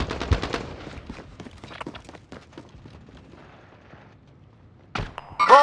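Gunfire in Call of Duty Warzone's Payload mode on Xbox Series X: a rapid burst of shots opens, followed by scattered thuds and distant pops, then a sharp blast near the end amid electronic game effects.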